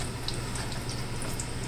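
Water mixed with oil bubbling and sizzling in a hot frying pan, a steady dense hiss with tiny crackles throughout, close and moderately loud.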